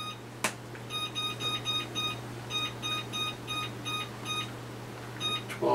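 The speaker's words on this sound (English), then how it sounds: "So we'll just set the timer." A kitchen timer being set to cook frozen HighLiner beer battered fish fillets, giving a steady run of short, clear electronic beeps over a low background hum, with no talking.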